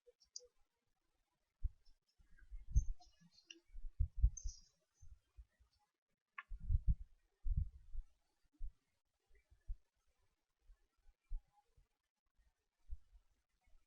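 A computer mouse clicks in scattered single taps and quick pairs, close and dry, with silent gaps between them.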